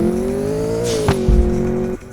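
A game car engine from a development asset demo hums at a steady revving pitch, then dips and thumps briefly before cutting off, loud and close with no talk.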